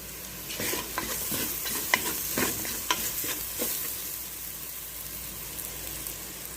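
A pan of potatoes and eggplant with chana dal, seasoned with salt, seasoning cubes and tomato, sizzles steadily while a spoon stirs it in short, uneven scraping strokes, close and fairly quiet, with no talking.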